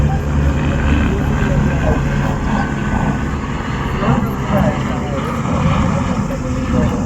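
A helicopter arrives at the Sanjhi Chhat helipad on the Vaishno Devi route from Katra, giving a steady, loud rotor and engine drone that fills the whole stretch with constant low rumble.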